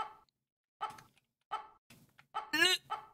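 Voice imitating a chicken while playing a chicken egg-protecting game: short clucking bursts, about five brief squawks spaced with pauses, ending in a rising warbled squawk, close and fairly quiet.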